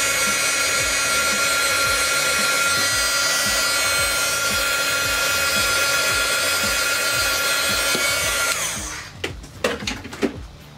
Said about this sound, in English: I have a little embossing tool that I use for heat, but you have to be careful because it gets hot fast.